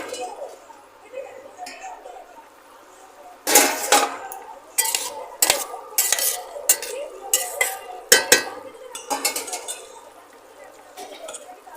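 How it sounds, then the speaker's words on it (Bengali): Pieces of fish are dropped into a simmering potato and brinjal curry in a metal pot, a busy run of clinks, scrapes and wet plops from a close spoon, loud for several seconds before quieting. "আমি এবার তরকারির মধ্যে মাছগুলো দিয়ে দেবো"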